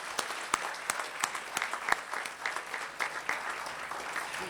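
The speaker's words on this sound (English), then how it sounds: "let's have another round of applause for all of tonight's award winners." Applause for award winners at an awards event, a steady wash of many hands clapping with distinct sharp individual claps standing out, moderately loud and without speech.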